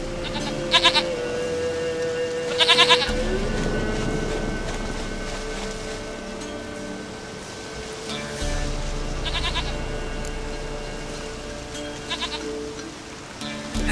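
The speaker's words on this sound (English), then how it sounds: "Goat of mine, dearest, sweetest goat." A goat in the video game The Witcher 3 bleats in several short wavering calls spread across the stretch, set over a steady patter of rain and low ambient game sound, with no talking.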